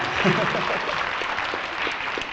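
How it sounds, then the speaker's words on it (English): Graduates' families clap at a small alternative-program graduation ceremony, a brief, fairly loud stretch of applause with voices and cheers mixed in. "Feel free to clap as much as you want."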